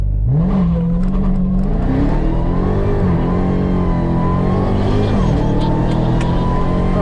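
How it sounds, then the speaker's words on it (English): A 2021 Dodge Charger SRT Hellcat Redeye Widebody does a full-throttle launch-control start, its supercharged engine roaring loud and close as it climbs through gear shifts with brief dips in pitch. "hard on the brake, go full throttle, and launch, and let go of the brake"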